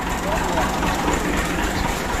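A farm tractor's engine idles close by, giving a continuous heavy low rumble and drone that stays even and unbroken throughout.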